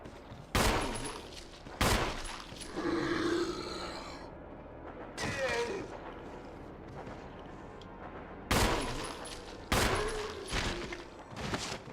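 Gunshots in the survival horror video game Resident Evil ring out as several sharp, loud single blasts spaced seconds apart, with growling and grunting sounds between them.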